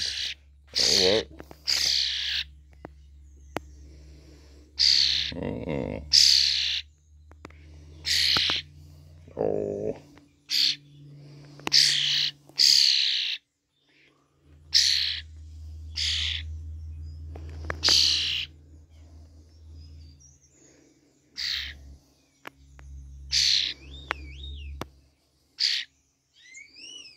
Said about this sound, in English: There's some squeaky birds here.